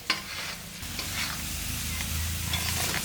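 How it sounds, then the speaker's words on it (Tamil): An egg being stirred and turned in a hot pan sizzles continuously, with a spatula scraping and clinking against the metal now and then, close and fairly loud, no voices. "இந்த மாதிரி திருப்பி விட்டு நீங்கள் பண்ணிங்கன்னா முட்டை நல்லா பெருசாக உங்களுக்கு கிடைக்கும்"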